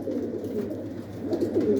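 Purebred breeding pigeons coo softly in their loft, a low rolling burble of several birds close by with no other sounds.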